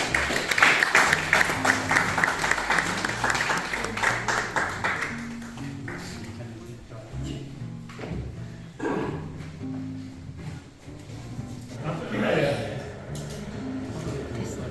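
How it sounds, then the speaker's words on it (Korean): An audience at a lecture on Geoje Island history claps in a dense burst to welcome Dr. Jeon Gap-saeng, then the applause fades into a host speaking over a few lingering claps. "이건 큰 박수로 우리 정갑생 박사님을 모시도록 하겠습니다"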